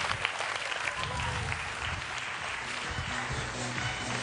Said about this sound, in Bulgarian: аплодисменти за господин Ники Илиев